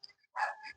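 A small dog barks from the stairs of a three-floor house, a few quick yips followed by a louder burst of barking, fairly close and with no talking.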